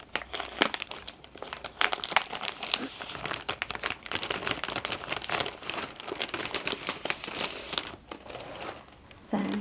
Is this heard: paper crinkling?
yes